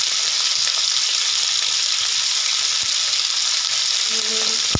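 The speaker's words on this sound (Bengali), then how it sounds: "এবার আমি পটলগুলোকে ভেজে নেব।" Pointed gourd fries with salt and turmeric in hot oil for a prawn dish: a loud, dense, continuous sizzle held close and steady throughout, with a faint tap near the end and no talking.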